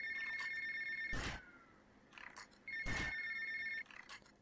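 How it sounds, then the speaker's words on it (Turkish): A phone rings in the video game GTA Vice City, two electronic ringtone bursts over a quiet game background, clear and close with no talk. "Telefon geldi."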